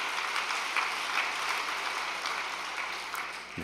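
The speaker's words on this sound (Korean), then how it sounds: "참부모님께 감사의 박수를 부탁드리겠습니다" An assembled congregation at an overnight devotional gathering gives a sustained round of applause, dense and even, holding steady before tapering off toward the end.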